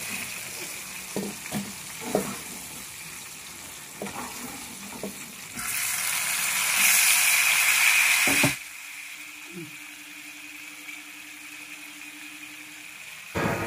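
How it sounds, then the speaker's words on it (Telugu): Green chillies and tomatoes fry in hot oil for a Telugu brinjal chutney. A loud, bright sizzle swells for a few seconds amid scattered clinks and stirring knocks, then cuts off abruptly to near quiet with a low hum. "పచ్చిమిరకాయలు అయితే ఫ్రై అయిపోయిన తర్వాత టమాటాలు వేసుకొని బాగా ఫ్రై చేసేసుకోండి"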